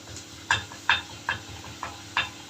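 Tomatoes hit onion frying in ghee in a pan, a soft background sizzle broken by about six regular clinks and scrapes of a spoon stirring against the pot, fairly quiet and close.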